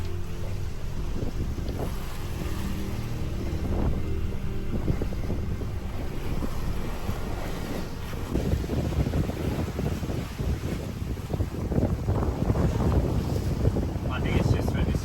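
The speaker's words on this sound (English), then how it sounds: "there's a lot of wind coming through this channel here." Strong gusty wind buffeting a sailboat crossing the Atlantic, roaring across the microphone with water sloshing against the hull, loud and continuous with surges in the later half, no talk.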